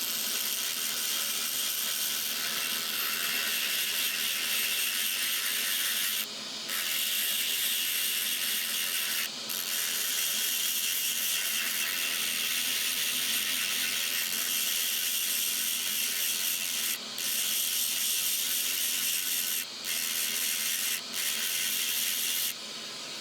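A Dremel rotary tool with a silicon carbide burr grinds and shapes agate in a continuous high, steady whine, broken by a few brief dropouts as the tool lifts off the stone, close and without talk.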